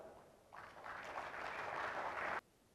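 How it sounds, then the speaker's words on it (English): Audience applause welcoming an honoured guest onto the stage at a leaders' summit and awards ceremony, a steady broad clatter of many hands that swells in, holds for about two seconds and stops abruptly, with no talking. "Let's please welcome him to the stage with a big round of applause."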